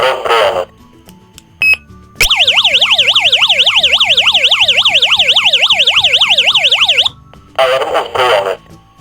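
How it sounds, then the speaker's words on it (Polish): A loud electronic siren from a newly installed Guardian I home alarm system wails in rapid rising-and-falling sweeps for about five seconds, bracketed by short beeps and chirps before and after. "Jak widzimy, syrena działa poprawnie"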